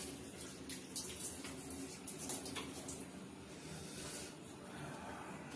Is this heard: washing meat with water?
yes